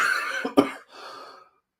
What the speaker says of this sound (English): I still have that cough